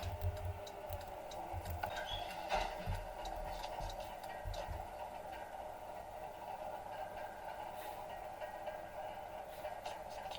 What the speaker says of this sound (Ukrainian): Вмикаємо поворотник і якось тако розвертаємось